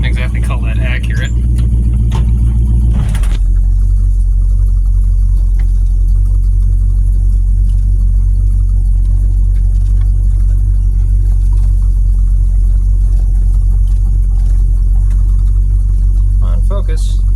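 A car engine holds a high idle as a loud, constant low rumble that fills the whole clip, after a short stretch where a voice speaks over it.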